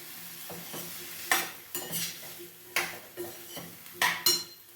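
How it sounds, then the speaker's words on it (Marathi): Cauliflower and potato curry stirred in a pot, a spoon scraping and clinking against the metal in several separate strokes, with a soft sizzle underneath, close and fairly quiet with no talk. "अशी ढवळून घेतली"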